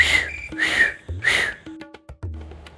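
A person whistles three long, rising shrill blasts in imitation of a pressure cooker, each followed by a pause, then some light clattering.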